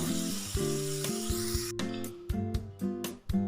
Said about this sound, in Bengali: আলুগুলো ভাজা হয়ে গেছে, এবার তুলে নেব।